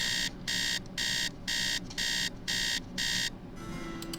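An alarm clock in the Nancy Drew video game Treasure in the Royal Tower beeps in seven even bursts about half a second apart, loud and close, then stops, leaving a faint hum.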